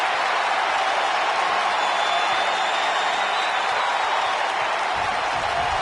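Video game arena crowd from WWE 2K19 during a TLC match, a dense, steady roar of cheering and applause held at a constant loud level throughout, with no clear single voices standing out.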